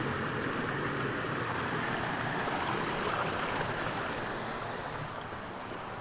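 Swift, heavy stream current rushes in a steady, dense broadband wash of water, loud and continuous throughout with no voices.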